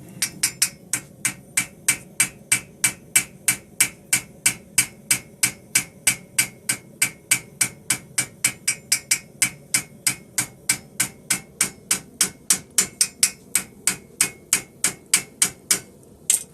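A farrier hammers a straight bar horseshoe to hem it up, striking steel with a steady, even rhythm of about three ringing blows per second, close and clear, with no talk over it.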